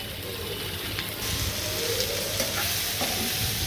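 Chopped onion and green chilies sizzle loudly in hot oil alongside bitter gourd, a steady close frying hiss with soft stirring scrapes throughout.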